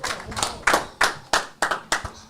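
A mentoring group claps for Coach Quan in a slow, rhythmic unison beat. About seven sharp, evenly spaced claps ring out close by, each with a brief decay before the next.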